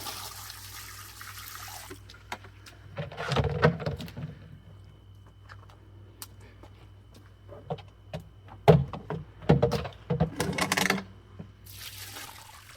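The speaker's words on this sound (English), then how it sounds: "And let's pour the dirty water off." Dirty panning water poured off a tub of gold concentrates scraped from a Jeep, heard as a few uneven splashing, sloshing bursts over a steady low hum, with quieter gaps between pours.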